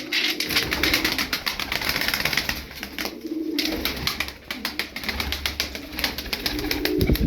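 Tumbler pigeons in a loft coo and rustle continuously close by, with a dense rhythmic flutter of wings and movement throughout.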